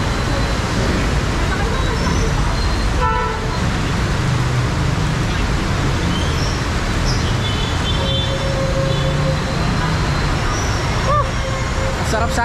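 Dense road traffic on a rainy street in Calamba, a steady broadband roar of passing vehicles with engines and occasional horn-like tones, continuous and fairly loud, with distant chatter mixed in.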